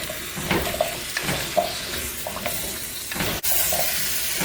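Cubed papaya pieces are stirred in a hot pot for coconut curry, with a continuous sizzle and scraping of a spoon at close range and no voices.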